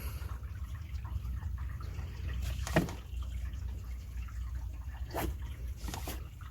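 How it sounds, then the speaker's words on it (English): Water dripping from a windshield leak onto the passenger floor inside a 1997–2001 Honda CR-V, with a few sparse, close drips and faint trickling over a quiet background. "Just an occasional drip."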